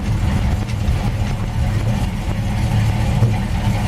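A 1928 Dodge rat rod cruising down a highway, its engine a steady low drone blended with continuous road rumble, close and loud throughout with no voices.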